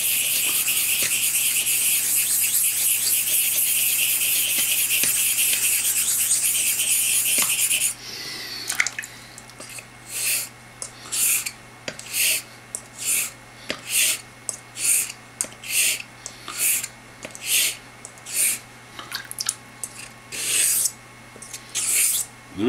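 A straight razor is worked on a hone to set the bevel during a restoration. A steady rasping scrape comes first, then rhythmic back-and-forth strokes follow close up, about a dozen of them, with no voice over them.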